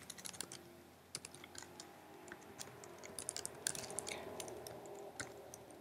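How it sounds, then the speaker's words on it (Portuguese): Quiet, quick keyboard typing as a birthday message is entered, a steady run of light clicks and taps close by with no voices. "para eu poder digitar a mensagem"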